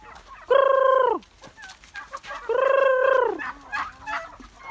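Two long, loud calls from nearby fowl on a farm stand out, then softer clucks follow as the chickens forage.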